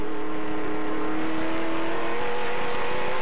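A race car engine at the Grand Prix de Trois-Rivières street circuit drones loud and continuous under steady throttle, its sustained whine holding even for the whole stretch with no talking.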